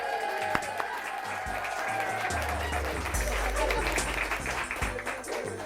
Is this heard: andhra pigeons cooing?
no